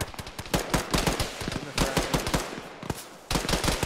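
Heavy machine gun fire in an ArmA ShackTac squad game, sustained rapid bursts of loud repeated shots with brief pauses, dense and close.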